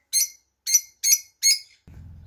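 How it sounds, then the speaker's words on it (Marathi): A pair of kannur birds calling in four short, bright chirping bursts at an even pace, close by and clear, followed by a low rumbling hum. "अजून एक आहे कन्नूर पक्षाची जोडी आहे"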